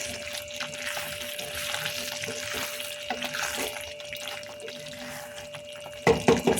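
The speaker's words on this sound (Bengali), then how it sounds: "আর একটু এই যে ঘি অ্যাড করে দিচ্ছি সাথে। দিয়ে একটু নাড়িয়ে দিই" Paneer masala with added ghee simmers and sizzles steadily in a pan, a soft constant frying hiss, then a short burst of louder scraping and clatter as it is stirred near the end.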